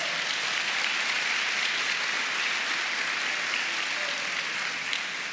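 A church congregation clapping during a sermon, a dense, steady wash of applause from many hands filling the room, sustained evenly throughout without talk.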